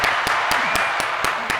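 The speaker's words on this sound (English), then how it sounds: "Norm Nathan gets an applause" Handclaps in a podcast studio, seven sharp, evenly spaced claps in a quick steady rhythm, close and loud, with no voices.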